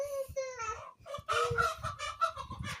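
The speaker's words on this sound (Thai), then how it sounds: "ลูกไก่ตอดกันเลย" Chicks squabble and peck at each other over food, giving loud, close chirps and clucks in rapid bursts, with a short pause partway through.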